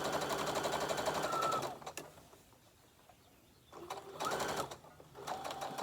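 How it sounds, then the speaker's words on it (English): Sewing machine back stitching while making a book sleeve, two bursts of rapid steady stitching close by with a quiet gap between them. "so I'm just going to back stitch over that a little bit."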